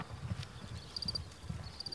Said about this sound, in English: Przewalski horses roam amongst the prehistoric rock piles of the Causse Méjean